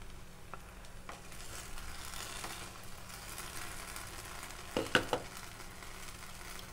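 Potato lachha halwa frying in a pan over a low flame, giving a soft, steady sizzle throughout with a couple of brief louder clinks near the end.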